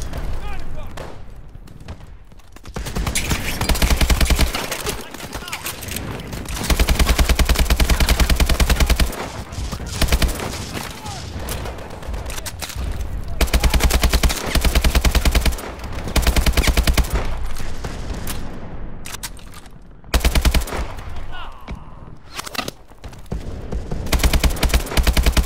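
Rapid bursts of AK rifle fire ring out in the Call of Duty: Advanced Warfare game, heavy and near, with sustained volleys and short pauses, and voices talking over the shooting.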